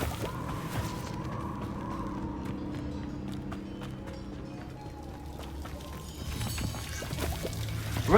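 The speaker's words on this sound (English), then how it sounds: "The waterfall." A waterfall flows in the video game Hogwarts Legacy, giving a soft, continuous rushing wash of water. It stays low and even throughout, like distant falling water with no clear breaks.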